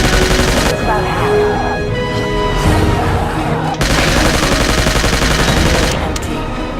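Gunfire from the video game Trespasser, based on The Lost World, in a loud, dense run of overlapping shots that sounds like rapid repeated firing with a brief break partway through.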